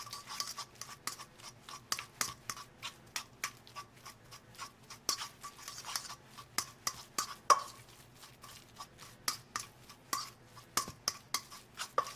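A utensil blending deviled egg filling in a bowl: quick, rhythmic clicking and tapping strokes, fairly faint and close, repeating steadily throughout with no talking.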